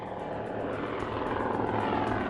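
Military propeller aircraft flying, a loud continuous engine drone with a rhythmic airscrew beat, steady throughout with no voices.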